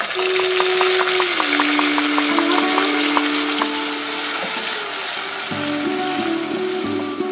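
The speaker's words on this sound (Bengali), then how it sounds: "এবার আমি যে মশলাটা তৈরি করে রেখেছি সেই মশলাটা এবার আমি দিয়ে দিচ্ছি।" Ghee sizzles loudly and constantly in a pan as a prepared spice paste goes in for dhokar dalna, a dense steady frying hiss with brief tonal squeaks over it and no talk.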